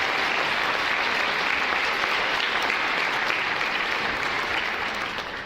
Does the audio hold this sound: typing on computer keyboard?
no